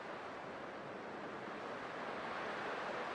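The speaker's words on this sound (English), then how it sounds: "I can still clearly hear the sound of the waves." Ocean waves wash in Honkai: Star Rail, a continuous broadband surf roar, even and moderately loud, with no voices over it.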